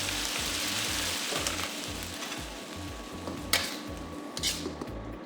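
Noodles frying in sauce in a pot give off a steady close sizzle and bubbling, with a soft rhythmic low pulsing throughout and a few light stirring scrapes; no voices.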